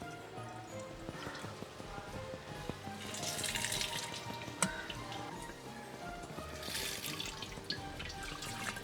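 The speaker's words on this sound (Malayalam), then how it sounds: "ഈ ഇതുകൊണ്ട് തന്നെ കോരി ഒഴിക്കാം കേട്ടോ." Homemade raisin wine ladled and poured through a stainless steel strainer, a steady close splashing trickle of liquid with intermittent clinks of the ladle, heard on its own without talk.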